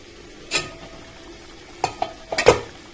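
A spoon stirs a pot of moor kulambu, a South Indian buttermilk curry with ground coconut paste, as it simmers, giving a few short scraping clinks against the pot over a low bubbling background.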